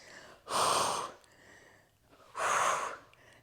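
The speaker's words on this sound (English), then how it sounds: "Inhale to lower, exhale to lift." Two strong, breathy exhales during a Pilates ab exercise, each lasting about half a second, with softer inhales between them, close and clear and with no talking.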